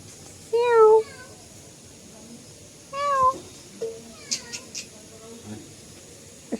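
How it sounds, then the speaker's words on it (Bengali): A household cat at a rural home meows loudly and close by, in two drawn-out cries followed by a few shorter, softer mews and small clicks against a quiet background, with a voice briefly heard. "এই যে আমাদের বিড়াল।"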